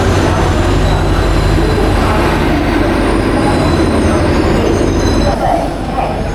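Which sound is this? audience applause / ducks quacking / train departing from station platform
train departing from station platform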